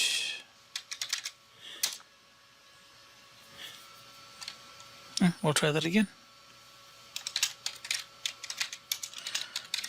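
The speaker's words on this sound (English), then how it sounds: "I was typing it wrong." Typing on a computer keyboard during a Linux password change, scattered bursts of close, crisp key clicks with pauses between them, and a short spoken phrase in the middle.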